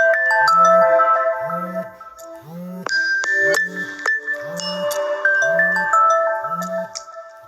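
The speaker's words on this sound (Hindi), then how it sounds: "सॉरी एक्चुअली मोबाइल में अलार्म बज गया" A mobile phone alarm rings with a repeating melodic tone pattern, loud and close, cycling in regular beats with chiming notes layered over a steady pulsing figure.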